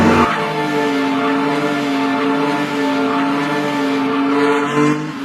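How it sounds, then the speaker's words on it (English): A handbuilt racing car drives past with a steady, droning engine note that holds a fairly even pitch throughout, loud and close, with no voices. "He built a racing car with his own hands"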